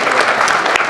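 An audience at a film screening and debate breaks into applause, a steady, fairly loud wash of many hands clapping together through the whole short stretch.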